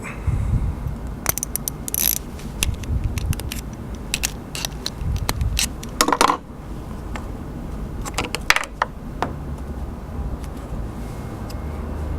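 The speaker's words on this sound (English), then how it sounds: "Put that in, and you're going to remove that chuck nut." A 7/16 long socket loosens the chuck nut on a Foredom #30 style handpiece, giving close, repeated ratcheting clicks and metallic clatter over a steady low mechanical background, with no talking.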